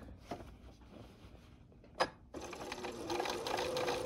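A sewing machine stitches binding onto a quilt, beginning with a couple of sharp mechanical clicks, then running into a steady, close whirring hum that builds and holds through the end.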